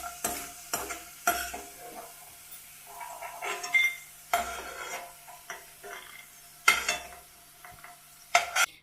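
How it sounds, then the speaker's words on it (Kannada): Browned potatoes fried in oil on a low flame are scraped and stirred out of a pan into a bowl, with clattering spoon-on-metal scrapes and clinks in irregular bursts, near and fairly loud, no talking. "ಈಗ ಒಂದು ಬಟ್ಲಕ್ಕೆ ತಕೊಂಬಿಡೋಣ ಇದನ್ನು."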